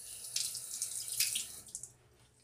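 Warm water running from a tap into a bathroom sink, a steady hissing splash that swells and tapers before cutting off near the end, close and fairly quiet.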